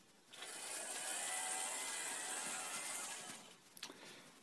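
Small Arduino-controlled toy electric train running for a few seconds, a steady mechanical whirring and clicking ratchet-like rattle that swells in, holds, then fades with a couple of clacks at the end, close and fairly quiet.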